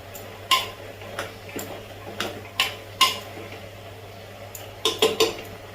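A spoon clinks and scrapes against a cooker as vegetables are mixed with ginger-garlic paste. The knocks come at uneven intervals over a low hum, with a quick cluster near the end.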